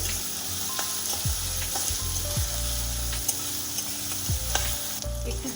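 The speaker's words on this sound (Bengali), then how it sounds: "ভেজে নিচ্ছি এবারে" Chopped onions sizzle in oil while a spoon scrapes and stirs the pan in repeated strokes, close and steady, with no talking.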